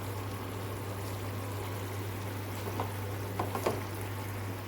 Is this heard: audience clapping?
no